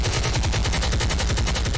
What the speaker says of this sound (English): Hit the gunshot.